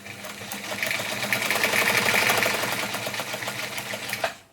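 Singer 190 sewing machine running steadily as it feeds fabric through, a close, fast rattling needle rhythm that builds and holds for several seconds before a sharp stop near the end.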